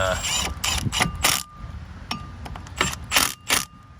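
Small screws being tightened on a Fiat Punto front brake disc, heard as a run of close, sharp ratcheting clicks in several short bursts with brief pauses between.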